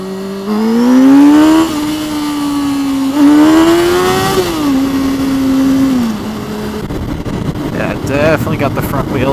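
A motorcycle revs hard and accelerates while lifting its front wheel in cold weather, its engine note rising and dipping through several gear changes up close, with strong wind rush over the microphone.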